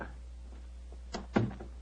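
A theatre stage door in an old radio drama opens with a couple of short wooden clunks and a latch-like knock, fairly close, with no talk over it.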